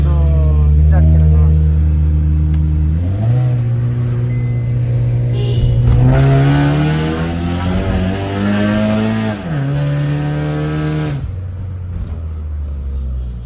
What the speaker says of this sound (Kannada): ಇವೇನು ಹೋಗ್ತೈತೆ ಗಾಡಿ ಎಲ್ಲ